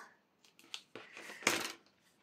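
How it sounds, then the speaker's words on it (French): Scissors cut paper for a small storage case, a few close crisp snips and a longer rasping cut, the sound isolated and fairly quiet. "ici je coupe."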